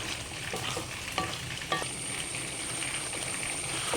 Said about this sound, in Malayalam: ഒന്ന് തിളച്ചോട്ടെ കേട്ടോ.